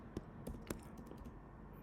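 Soft, quiet typing on a computer keyboard, a few light irregular key clicks close by against a faint background hum.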